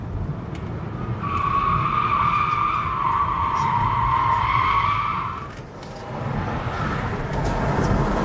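Tires on a Tesla Model car fitted with 20 mm wheel spacers squeal in a sustained, loud, strained whine on a wet road for about four seconds, over steady road and engine noise.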